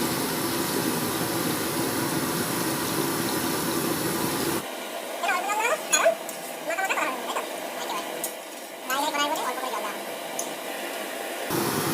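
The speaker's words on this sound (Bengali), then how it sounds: "জল দিতে হবে এবার জল দিয়ে" Water pours with a loud, steady hiss into chicken curry in a hot pan. It stops after several seconds, and a voice then talks over a quieter background.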